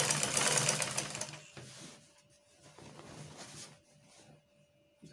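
A sewing machine stitches the seams of a shift dress, its motor running in a loud, dense burst for the first second or so, then continuing more faintly in short uneven runs.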